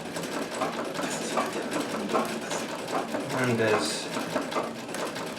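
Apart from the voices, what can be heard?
1959 Brother Flairmatic class 15 oscillating hook sewing machine stitching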